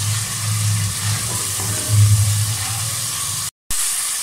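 Onion, ginger and garlic frying in ghee for beef korma, a loud continuous sizzle and hiss with a low rumble, swelling briefly in the middle before a sudden short break in the sound.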